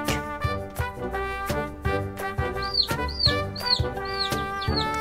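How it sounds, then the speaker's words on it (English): Chick cheeps over a children's animal-sounds song, short high chirps repeating in quick bursts against steady music throughout. "Chick."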